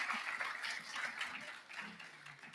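Audience applause at a panel discussion on digital school organisation: soft, steady clapping from a crowd that sounds somewhat distant and fairly quiet, holding evenly for a couple of seconds.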